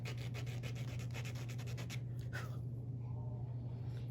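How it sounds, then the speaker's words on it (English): A small abrasive tool rubbed against a stone in lapidary work, a faint, close series of quick scratchy strokes that fades to a quieter hum after a couple of seconds. "I'm going to get me a little abrasive tool here"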